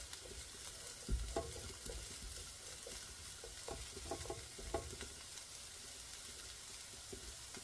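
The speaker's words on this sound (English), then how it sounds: "And I'm just going to stir this around like this." Vegetables with onion softening in a hot pan while being stirred: a soft, steady sizzle with a string of light scraping and tapping sounds from the spoon, fairly quiet and close, no voices.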